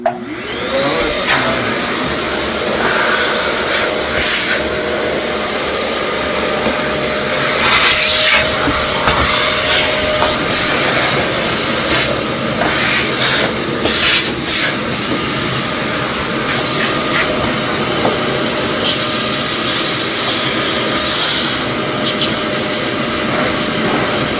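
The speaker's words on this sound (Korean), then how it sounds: "일단 청소기는 건식 청소기를 사용할 거고" A dry vacuum cleaner runs continuously at full power, sucking dust from a window frame track during a studio apartment cleaning job. The whine is loud and close, with small shifts in pitch as the nozzle moves, and there is no talk.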